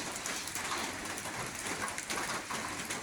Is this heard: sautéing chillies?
no